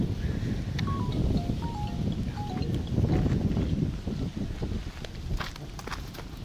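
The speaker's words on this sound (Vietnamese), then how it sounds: "gió to quá" Strong wind buffets the microphone outdoors in Dak Lak, a dense, steady roar with gusty swells and a dip near the end, while faint bird chirps and rustling sit above it.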